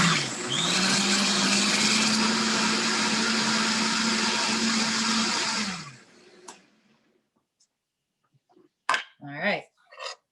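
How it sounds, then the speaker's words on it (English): A countertop blender runs loud and close for about six seconds, a steady whirring roar that stops abruptly, followed by quiet clatter and someone talking briefly. "I have had like the volcano eruption with this blender before."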